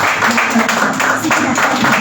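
A church conference congregation applauds loudly for the Lord, a dense wash of clapping mixed with raised voices that holds steady for a couple of seconds.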